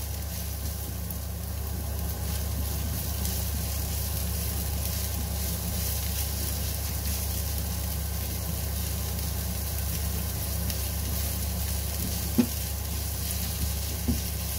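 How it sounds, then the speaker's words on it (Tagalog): Onions frying in a pan for corned beef, a steady loud sizzling hiss under a constant low hum, with a couple of faint stirring knocks near the end. "Haluin lang po natin."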